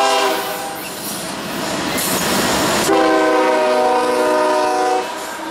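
A freight train with an SD50 locomotive rolls past in northern Ohio, loud and close, its horn sounding a long sustained blast over the rumble and wheel noise that fades near the end.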